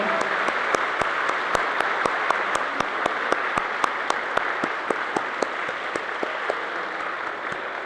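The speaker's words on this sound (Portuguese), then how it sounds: "Uma salva de palmas" Sustained applause from a church service congregation in Balneário Camboriú, Brazil, a dense wash of clapping with distinct sharp claps standing out regularly, continuing steadily for several seconds.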